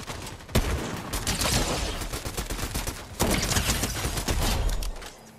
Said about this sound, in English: they're shooting over at us